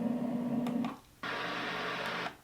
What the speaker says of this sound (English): One of my favorite sounds is the sound of a window unit air conditioner.